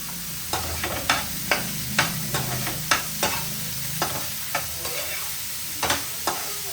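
Food sizzles in a pan with salt, chilli powder and garam masala, a constant hiss punctuated by a regular series of sharp spatula taps and scrapes, close and fairly loud with no voices.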